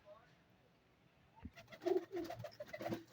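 Pigeons coo softly in a breeding loft, a few low throaty calls rising after a quiet start, close by and gentle, with faint talk in the background.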